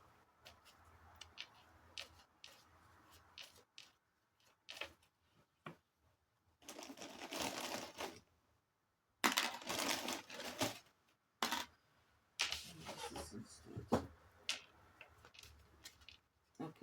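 Tarot cards being shuffled by hand in bursts, soft riffling and flicking with short pauses between, quiet and close.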